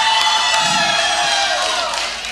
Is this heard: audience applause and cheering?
yes